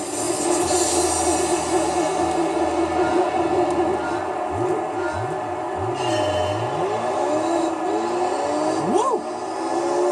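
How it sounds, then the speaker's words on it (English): A four-wheel-drive race car in Gran Turismo 3 accelerates hard, its engine whining up through rising pitch sweeps with repeated gear shifts over steady road roar, while someone talks over it. "This car takes off like a goddamn rocket, man."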